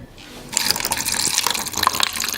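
Kangen water gushes from a tap into a container, a loud steady splashing pour that starts abruptly after a brief quiet moment.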